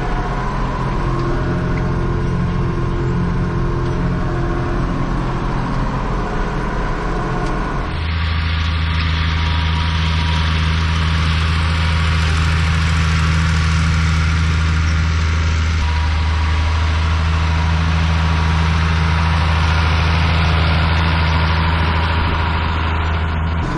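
A farm tractor pulling harrows lifts the implement and turns around on a headland, its engine a loud, steady low drone that shifts in tone partway through, with no talk.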